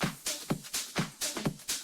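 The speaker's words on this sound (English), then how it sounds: "they tend to have like a drum intro sound kind of like this." Drum intro of an extended house mix, a punchy kick drum thumping on a steady four-on-the-floor beat with crisp hi-hat ticks between hits, loud and alone.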